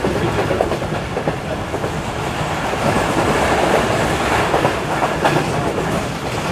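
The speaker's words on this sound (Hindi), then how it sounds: "ट्रेन हमारी काफ़ी अच्छी स्पीड में स्किप कर रही है सर सरहारी रेलवे स्टेशन को।" Karakoram Express, in a new rake on the Karachi to Rohri run, racing fast along the track past a station: a steady, loud rumble with continuous wheel clatter throughout and no voices.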